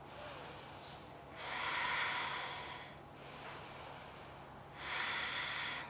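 Two long, slow breaths pushed out through the nose during yoga eagle pose, breathy and close, separated by a quiet pause, over faint room hum.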